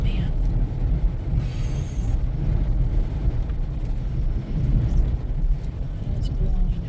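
Strong gusting wind during a Nevada blizzard drive through Clover Valley, roaring steadily against the vehicle with low rumbling road noise and fluctuating bursts, close and constant throughout.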